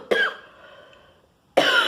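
Two short, rough throat-clearing bursts, close and loud, separated by a brief quiet pause.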